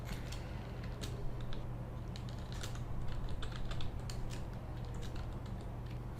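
Typing on a computer keyboard while entering on-screen text for video editing: quick, irregular key clicks patter continuously, soft and close, with no voices.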